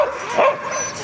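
Sheepdogs at a school's Dog Day bark and yip close by, a few quick excited barks and whimpers in rapid succession, loud and clear with no talking.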